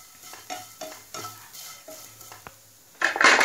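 Crushed chili frying in oil in a pan while a spoon stirs and scrapes, giving a steady soft sizzle broken by repeated utensil clinks and a louder sizzling burst near the end.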